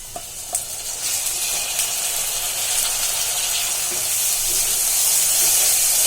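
Chopped tomato drops into a pan of frying onions, setting off a loud, close sizzle that swells and hisses steadily, with a few sharp stirring clinks early on and no voices.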